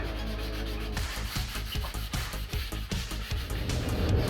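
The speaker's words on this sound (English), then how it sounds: "I'm going to hit it with some sandpaper" Sandpaper rubs across a plywood edge on a boat build, a close, steady scratching in quick back-and-forth strokes that pulse through the whole stretch with no talk.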